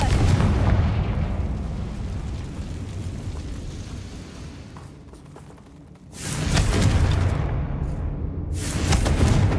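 Hogwarts Legacy's Confringo fire spell bursts in two loud explosive booms with rumbling tails, separated by a quieter lull of a few seconds.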